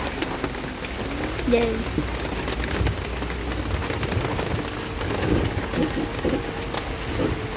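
Heavy rain pours down in the mountains as a steady, dense wash of drops, with people talking intermittently over it.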